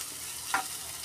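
Garlic and onion frying in hot oil, a soft steady sizzle with one brief clink of a utensil midway.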